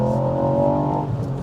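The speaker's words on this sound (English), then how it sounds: "Little bit of a crack, little bit of a pop off the exhaust there" Ford Puma ST engine note held steady and loud at close range, a smooth revving drone carried through the exhaust as it eases off.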